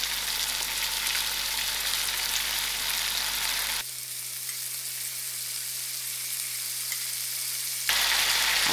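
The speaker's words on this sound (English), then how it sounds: "today I'm going to allow the liver to fry out" Lamb liver fries in hot oil with a loud, dense, continuous sizzle, its tone shifting briefly mid-way before the full crackle returns.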